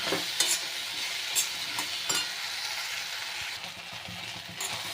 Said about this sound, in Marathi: चांगली परतून घेतो